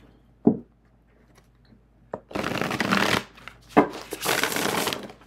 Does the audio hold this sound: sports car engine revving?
no